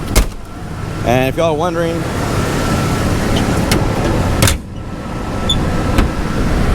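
An OBS Ford truck engine with a running problem drones steadily while driving, under someone talking, with a couple of sharp clicks along the way.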